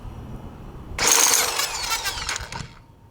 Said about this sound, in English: Get the impact driver and open up the clutch.